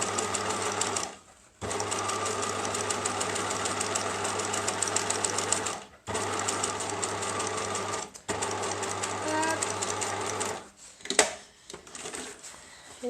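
A sewing machine stitches the seam of a bike frame bag, a fast close mechanical whir running in long bursts separated by short pauses, with a faint click or two near the end.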